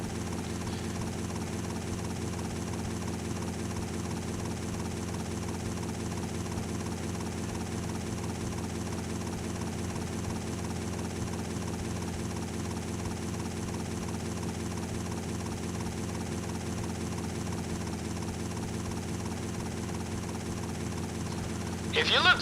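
A helicopter on a sightseeing tour in GTA Vice City Stories drones with a steady rotor chop and engine hum at an even level throughout, while a voice talks over it.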